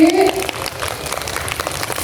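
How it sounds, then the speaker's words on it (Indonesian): Audience applause for a guest speaker at an educational session for children at Indonesia's disaster management agency, a steady patter of clapping filling the room after a brief voice at the start. "Boleh tepuk tangan dong untuk Bu Didi."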